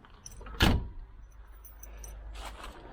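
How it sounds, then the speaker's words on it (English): A 1971 Range Rover door swung shut with one solid, close thud, followed by quiet rustling and a faint second knock in a calm setting. "Just check the door for closage."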